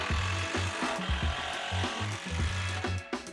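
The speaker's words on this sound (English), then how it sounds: "So I cut the remaining plywood I had left over to use it as a shelf base." A power saw cuts through scrap plywood in short repeated bursts, each a rough buzzing rasp with brief pauses between passes, close and fairly loud, with no talking.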